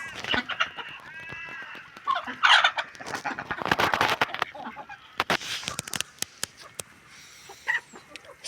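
A male duck calls repeatedly with raspy, honking squawks, close and loud, mixed with other poultry noises and some scattered clatter.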